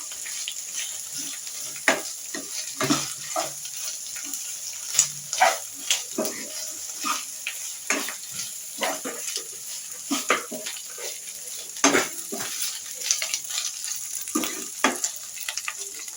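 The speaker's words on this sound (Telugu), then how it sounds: "ఈ అల్లం వెల్లుల్లి పేస్ట్ పచ్చి వాసన అంతా పోవాలి. ఇలానే ఒక నిమిషం పాటు ఫ్రై చేసుకోవాలి." Ginger garlic paste frying in a pan, a steady sizzle under repeated scraping and stirring strokes from a utensil, close and fairly quiet, with no talking.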